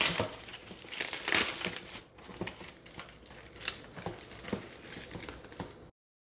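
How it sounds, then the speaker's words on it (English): Aluminum foil crinkles and crumples up close as it is peeled off a smoked pork butt, in irregular crackling bursts that continue for several seconds before cutting to silence. "I'm ready to take it out of the foil and dig into this bad boy."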